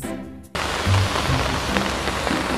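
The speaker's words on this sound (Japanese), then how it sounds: "雨やばい" Heavy rain starts abruptly after half a second of quieter sound, then becomes a dense, loud, steady hiss of pouring rain that continues to the end.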